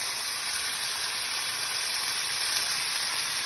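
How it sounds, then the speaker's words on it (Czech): Crushed tomatoes sizzle in a hot frying pan, a dense, steady hiss with fine spitting crackle, close and continuous for a few seconds, with no speech. "rozmačkej pěkně ty rajčata do té pánve a dávej bacha, protože to může prskat"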